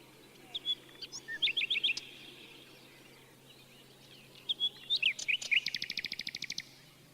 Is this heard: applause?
no